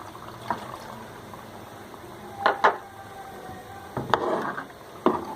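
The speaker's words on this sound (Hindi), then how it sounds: "मैं इसमें पानी डालूंगी अब।" Water goes into a simmering chicken and potato curry in a cooking pot, giving soft liquid bubbling with a few sharp clinks of utensil against pan, set against a quiet kitchen background.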